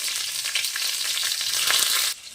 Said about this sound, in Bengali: তেলটা দিয়ে তার মধ্যে দিয়ে দেব হাফ চামচ পরিমাণে কালো জিরা আর দেব দুটো কাঁচা লঙ্কা